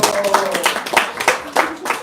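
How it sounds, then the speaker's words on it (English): Audience applause for children at a devotional gathering, several bursts of clapping rising and falling across the moment, fairly close and loud. "We have to really clap our kids,"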